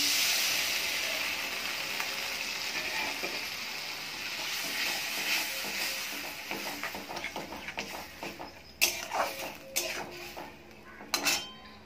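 Water poured into a pan of well-fried spice paste for a gravy, with a steady hiss and sizzle that fades into clattering pot and utensil knocks.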